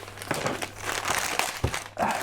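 A plastic-wrapped Warhammer 40K Legends magazine issue is unwrapped with close crinkling and tearing of the plastic film in a short continuous burst.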